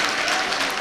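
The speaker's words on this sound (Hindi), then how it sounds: "जोरदार तालियां बजाइए" A mushaira audience in Wardha breaks into loud, dense clapping for a poet, a short unbroken burst of many hands together.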